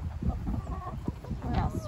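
Chickens cluck and a rooster calls close by amid a busy flock including a naked neck rooster, with a person talking quietly underneath.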